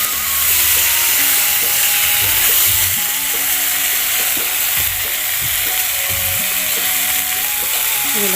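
Brinjal for bharta frying in a pan: a loud, continuous hiss of hot oil fills the clip, with repeated stirring knocks and scrapes and a steady tonal hum running beneath.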